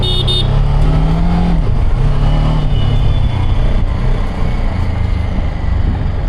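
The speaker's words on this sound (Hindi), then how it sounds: "लो एंड 3rd गियर डाला है, 4th गियर डाला है, आराम से बाइक बढ़ रही है।" A BMW F450 GS motorcycle accelerates steadily through third and fourth gear, its engine loud and close, with the note rising and dropping at each shift and a continuous mechanical roar throughout.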